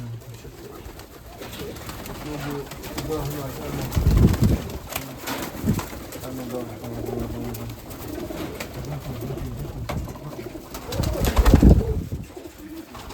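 Pigeons coo softly and repeatedly close by in a pigeon loft, with occasional rustling bursts while someone talks intermittently over them.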